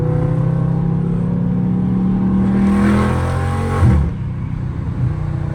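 Dodge Charger Scat Pack exhaust droning under steady revving, then a swelling rev with a cluster of sharp pops and crackles near the end, loud and close.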